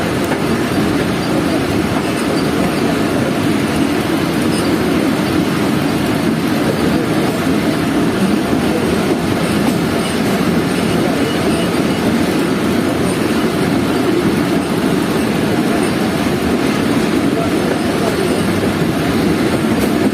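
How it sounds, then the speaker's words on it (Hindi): Steady rumble of a train leaving Malir for Karachi, heard from on board: continuous low roar with faint wheel clatter running throughout, close and loud, with no clear voices. "मलीर से ट्रेन निकल चुकी है"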